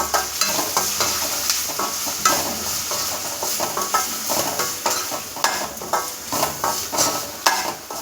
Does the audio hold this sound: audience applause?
no